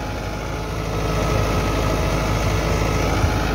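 Massey Ferguson 385 tractor driving a rotavator in a potato field in Punjab, Pakistan, its engine a steady low rumbling drone that is close and loud, with no talking.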